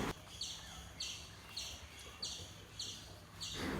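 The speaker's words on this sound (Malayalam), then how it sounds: "നിങ്ങൾക്ക് കേൾക്കുന്നുണ്ടാവുമല്ലോ കിളികളുടെ ശബ്ദമൊക്കെ നല്ല." Birds chirp and sing around a forest temple, with bright repeated calls arriving at a regular pace of roughly two per second over a quiet background.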